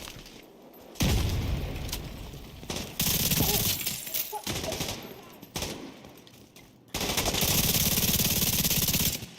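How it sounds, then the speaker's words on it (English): Grenade blast and bursts of automatic gunfire in The Division 2 shooter game, loud broadband explosions and rapid fusillades hitting in repeated surges, with a player's voice briefly over the combat. "Whoa, that's a grenade."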